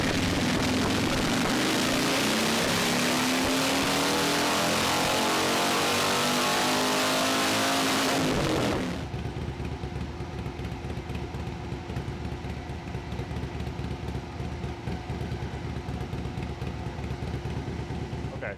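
A motorcycle with a coated exhaust runs on a dyno for a baseline pull, its engine roaring and climbing steadily in pitch for about eight seconds before cutting back to a lower rumbling idle.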